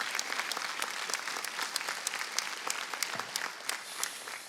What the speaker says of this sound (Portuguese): Você pode mais uma vez louvar Jesus com as suas palmas?